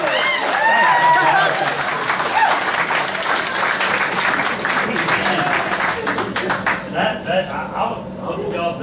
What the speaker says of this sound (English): I hope y'all be applauding for me, not that Gene Stock.